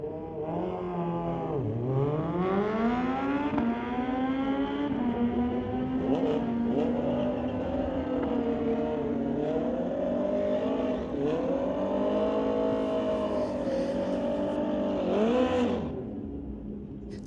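Kawasaki motorcycle drag racing down a strip, its engine rising in pitch through the gears in one loud continuous run that fades at the end, with no talk.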